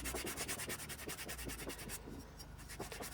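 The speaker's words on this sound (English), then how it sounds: "we're just sanding all around it to give it even more distinction" Sandpaper rubs in quick, steady back-and-forth strokes around the edges of a homemade Dollar Tree bell, close and continuous, with no talking.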